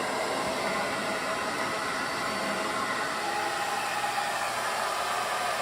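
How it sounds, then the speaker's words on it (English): Steady, loud whoosh of a blow dryer blowing air through battery-box ventilation on an electric Corvette conversion, constant and unbroken throughout, with no voices. "Clearly the blow dryer blows the air."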